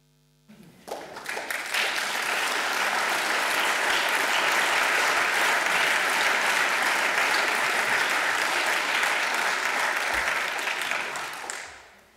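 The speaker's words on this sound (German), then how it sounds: "Ich hoffe, Sie haben den Applaus gehört, der galt Ihnen gerade" Audience applause from a crowd at an event in Kharkiv, a dense sustained clapping that swells quickly, holds steady and loud for about ten seconds, then tapers off at the end with no talking.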